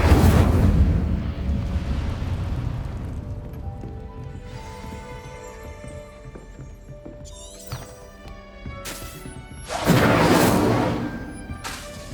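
A fiery Incendio spell is cast in the Hogwarts Legacy video game, a loud burst of roaring whoosh and crackle that swells and fades, amid game music and effects, with a second strong burst near the end.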